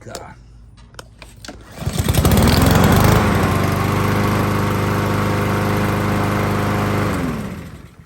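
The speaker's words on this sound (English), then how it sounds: "motor runs absolutely perfect on this mower" A lawn mower engine, on a 2012 Troy Bilt TB240 with a rotted deck, starts after a few seconds of quiet clatter and runs loud and steady for about five seconds before winding down, with someone talking over it.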